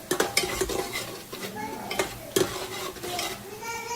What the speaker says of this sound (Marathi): थोडीशी कोथिंबीर आणि लसूण अद्रकची पेस्ट आहे ती आपण परतून घ्यायची आहे.